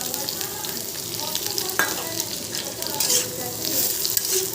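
Vegetable stems stirred in a pan with ground cumin and green chili paste, a steady bright sizzle of frying with scraping stir strokes and a sharp clink near the middle, no voices.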